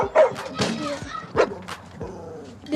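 Dog barks and yips in a few sharp, loud bursts with brief whimpering between them, up close, with some speech-like sound mixed in.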